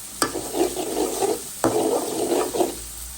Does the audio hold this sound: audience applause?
no